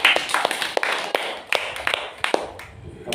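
An audience claps in a church during a feast of Our Lady of Lourdes, with sharp, scattered claps in an irregular run of quick bursts lasting a few seconds.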